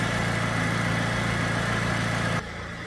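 A Peugeot 206 CC engine idles quietly at close range in a steady, even drone, then drops to a softer, lower hum near the end.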